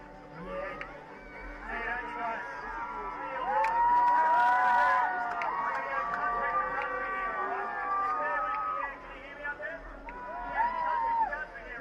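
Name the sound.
live BMX event crowd cheering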